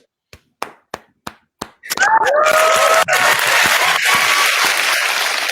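A few isolated claps lead into a burst of dense, loud audience applause at a recovery advocacy gathering, sustained and close, with a whistle or cheer rising briefly in the middle.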